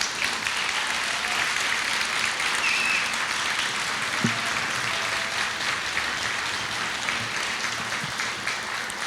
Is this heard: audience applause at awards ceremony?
yes